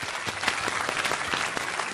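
Studio audience on a Chinese television health programme giving steady, even applause to welcome a guest, a continuous roomful of clapping at moderate level.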